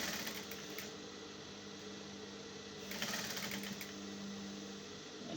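A sewing machine stitches an A-line cold shoulder shift dress with a steady, close mechanical whir, its pace briefly picking up in the middle, alone without any speech.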